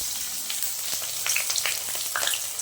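Potatoes sauté in masala in a pan while chicken cooks, giving a continuous close sizzle with occasional crackles and pops and no talking.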